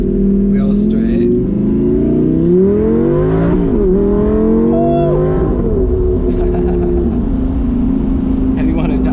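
Lamborghini Gallardo engine revving loudly from inside the moving car, pitch climbing and dropping as gears shift, with a sustained drone throughout and a voice briefly audible.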